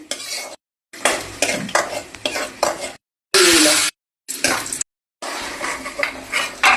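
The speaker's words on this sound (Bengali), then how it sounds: "বাদাম কিশমিশ দিয়ে দিলাম, হালকা করে ভেজে নেব।" Nuts and raisins fry lightly in a pan with a soft sizzle, broken by repeated scraping stirs of a utensil against the pan and short pauses.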